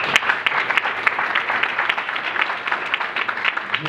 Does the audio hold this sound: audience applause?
yes